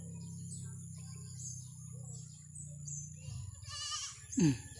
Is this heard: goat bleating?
yes